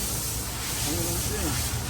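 A Range Rover's air conditioning gives off a steady, close, broadband hiss from a leak, running continuously while people talk quietly.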